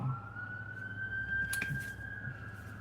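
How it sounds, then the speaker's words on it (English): An emergency siren wails steadily in the distance, one long sustained tone behind a low hum of background noise, with no one talking. "You hear those sirens as I'm telling you this information."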